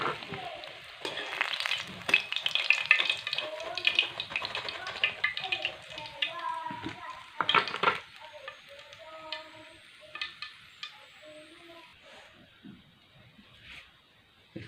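Crispy fish sizzles and crackles in hot oil with busy clattering handling for several seconds, then the sound thins to sparse quiet pops and taps, while a voice speaks briefly at moments.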